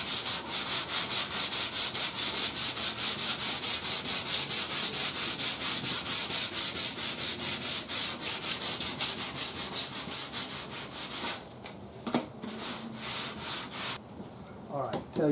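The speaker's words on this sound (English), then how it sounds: "I need to take a piece of sandpaper and sand it." Sandpaper rubbed by hand across the wood cabinet of an old Arvin shortwave radio, a steady rapid back-and-forth scratching that runs for about eleven seconds, then breaks into a few short, softer strokes near the end.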